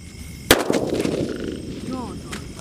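A large Diwali firecracker bomb explodes outdoors with one loud, sharp bang, followed by a lingering rumble and faint crackling echoes.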